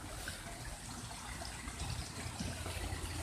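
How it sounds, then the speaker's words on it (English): Steady rushing splash of a waterfall in a meditation garden, heard from about two feet away, a continuous broadband roar with no voices. "I'm within 2 feet of one of the waterfalls."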